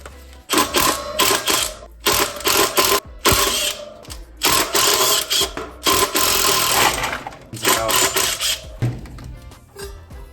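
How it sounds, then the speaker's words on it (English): An impact driver with a Torx bit hammers brake rotor bolts loose on an Ultra Bee motorbike, firing in repeated loud, rattling bursts separated by short pauses. "So we've got our Torx on our impact."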